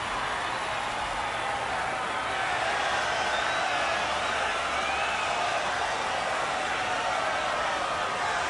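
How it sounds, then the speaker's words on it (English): A home crowd at Wolf Stadium in San Antonio roars after a walk-off home run at a Missions baseball game, a steady loud wash of cheering that holds for several seconds with no talk on top. "The home crowd is exploding here tonight at Wolf Stadium."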